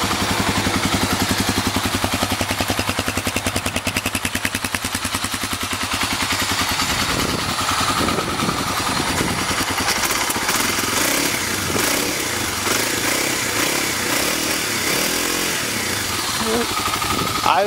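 A 2009 Kawasaki KLX250SF supermoto motorcycle starts up and settles into a loud, close, rapid idle with a busy mechanical clatter that continues steadily to the end.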